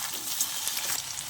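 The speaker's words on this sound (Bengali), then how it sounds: "আলুটাকে সুন্দর করে এভাবে ভেজে নেব।" Potatoes sprinkled with salt fry in oil in a pan, giving a steady, close hiss and crackle with no talking.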